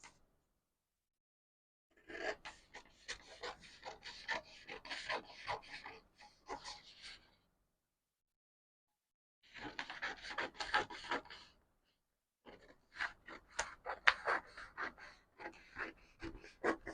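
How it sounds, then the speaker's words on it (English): Scissors cut a paper A-line skirt pattern along marked lines, giving close, crisp snipping and rustling in three busy stretches separated by short silent pauses. "Now I'm going to cut on the mark lines."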